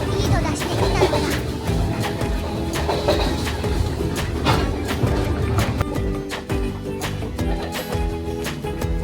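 Sri Lanka Railways locomotive-hauled train running at speed, a continuous rattling rumble with repeated sharp clacks and knocks from the wheels and carriage, heard from inside.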